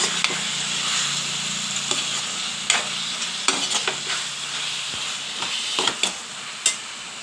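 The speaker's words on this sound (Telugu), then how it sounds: "దాన్ని తిప్పుకోవాలి ముందు మనం." Chicken curry with freshly added chopped coriander is stirred in a pan, a soft steady sizzle broken by sharp scraping clicks of the spoon against the metal at irregular intervals, with no voices.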